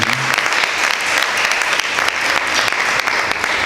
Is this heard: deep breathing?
no